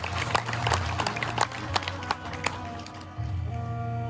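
Scattered audience clapping at a village Shrimad Bhagwat katha, a handful of sharp distinct claps over a low sustained musical drone, fairly faint and irregular rather than a full ovation.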